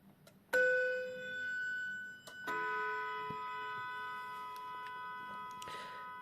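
A clock's hammer strikes its chime twice, the bright ringing tones amplified through a mechanical speaker cone with a wavering, vibrato-like sustain; each strike rings clearly and slowly decays, quiet and close.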